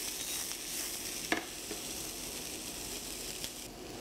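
Black beans and potatoes sauté in a pan with a soft, continuous sizzle, broken by a few light scrapes and clicks of stirring, fairly quiet and with no talking.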